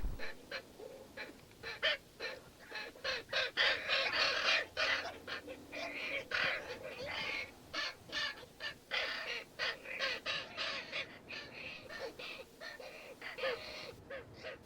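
Ravens in Yellowstone give a busy run of harsh, repeated caws and croaks, several birds calling in quick bursts that overlap and stay fairly close and loud throughout, with no talking.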